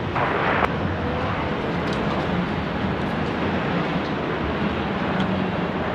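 Airplane at Sydney Airport, a loud, steady broadband jet roar filling the whole stretch with no breaks, close and constant.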